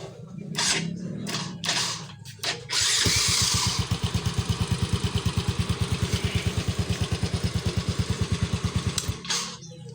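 A Yamaha Mio scooter fitted with an aftermarket alarm system cranks over after a few short clicks and bursts, then settles into a steady, close, rapidly pulsing idle that runs for several seconds before cutting off.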